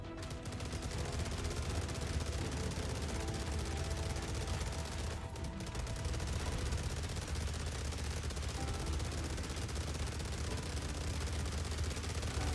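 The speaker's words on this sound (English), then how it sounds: "And now is the ballistic Gatling gun, and it works." Ballistic Gatling gun on a ship in Star Citizen firing continuously, a dense, unbroken roar of rapid shots that holds loud and steady with no pause from start to end.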